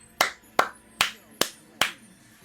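Five sharp hand claps ring out in a steady, evenly spaced rhythm, each crisp and close with a brief decay, against a quiet background.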